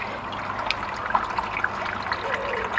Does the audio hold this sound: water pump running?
yes